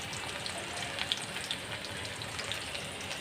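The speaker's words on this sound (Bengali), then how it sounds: "তেলটা গরম হলে রসুন পেঁয়াজ ভেজে নিয়ে ডালটা বাগার দিয়ে নেব" Garlic and onion frying in hot oil for a dal tempering, a steady dense sizzle and crackle with small sharp pops scattered throughout, moderately loud and unbroken by talk.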